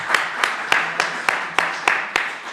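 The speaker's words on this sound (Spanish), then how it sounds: "Un aplauso para todos ellos." A small audience at a judicial forum claps for the panelists: a steady, evenly spaced run of about eight sharp claps, moderately close, with no talking.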